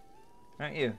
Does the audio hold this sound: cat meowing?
yes